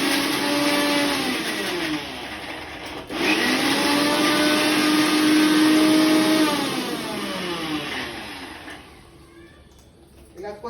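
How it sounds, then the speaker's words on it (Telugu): A kitchen mixie grinder whirs loudly and steadily as it grinds chopped pieces. The motor pitch rises and falls in a few bursts before it winds down near the end. "మిక్సీలో రుబ్బాలండి."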